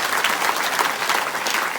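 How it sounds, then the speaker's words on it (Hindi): A congregation at a church gathering claps loudly and continuously, a dense burst of applause close by. "जोर से ताली बजा प्रभु के।"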